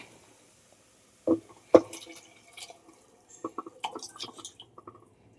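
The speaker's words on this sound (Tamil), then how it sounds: "அந்த பீஃபையும் அந்த தண்ணியும் அதோட சேர்த்தே அப்படியே நம்ம ஊற்றிடலாம்" Beef and stock being poured into a pan, with irregular splashes and drips, a couple of louder plops, then scattered trickling.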